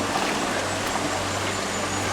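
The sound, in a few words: clean stream flowing near Whanarua Bay, New Zealand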